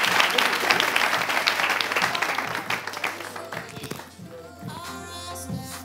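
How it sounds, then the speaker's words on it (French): A classroom crowd of children applauds their teacher with dense, steady clapping that gradually thins out, followed by a quieter stretch with voices and light activity. "Applaudissez la maîtresse"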